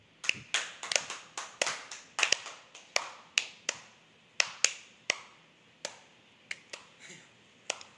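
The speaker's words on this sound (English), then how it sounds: "So let's go ahead and welcome through a very cringeworthy slow clap, Killing All Day." Slow, deliberate hand claps at a steady spaced rhythm, crisp and close, about two per second, with nothing else in the background.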